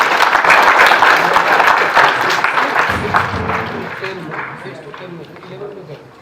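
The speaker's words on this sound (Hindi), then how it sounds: "इनके जोरदार ताली होनी चाहिए" Loud, dense applause from a school audience at a Kendriya Vidyalaya event honouring a student, starting near and full, then thinning and fading over several seconds with a voice or two under it.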